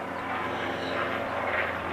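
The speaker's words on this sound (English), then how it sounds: "Sorry about the airplane." Airplane flying overhead, a broad steady roar that swells slightly and dominates the background, with no talk.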